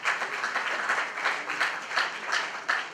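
A small audience claps steadily through a round of applause at an Azerbaijan presentation night in South Korea. The clapping is moderately loud and dense, with slight swells, and no one talks over it.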